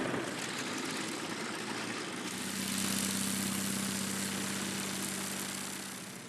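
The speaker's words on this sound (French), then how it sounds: "les pilotes mettaient en route les moteurs dans une symphonie agréable" Aircraft engines starting up and running at an air show at La Ferté-Alais, a steady droning roar that swells midway into a stronger hum with a propeller drone, fairly distant and continuous.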